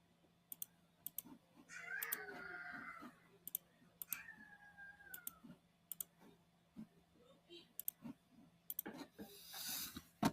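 A cat in a video game gives two drawn-out meows in quick succession amid frequent sharp clicks of keyboard and mouse, the meows soft and close against a faint steady hum.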